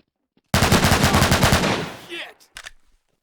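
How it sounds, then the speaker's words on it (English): Rapid automatic machine-gun fire in a video game, one close, loud burst of evenly spaced shots lasting about one and a half seconds, followed by a few scattered trailing hits. "Who's shooting?"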